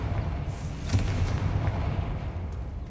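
A fiery spell blast in the Hogwarts Legacy video game erupts as a dull boom about a second in, then rumbles on over a steady low roar, loud and close, with no speech.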